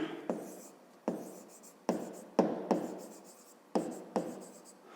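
Pen on paper writing out maths working for a fifth-grade exercise: a series of short, crisp strokes and scratches, close and quiet, coming in irregular bursts with brief pauses between them.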